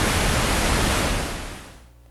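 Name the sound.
pink noise through an open voltage-controlled low-pass filter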